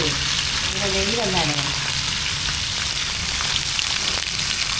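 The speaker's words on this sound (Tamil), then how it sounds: "கொஞ்சம் பொன் நிறமாக அப்படியே வறுக்குறீங்களா?" Breakfast food frying in a pan, a loud, steady hiss and crackle of sizzling oil that runs throughout, with a brief voice-like tone near the start.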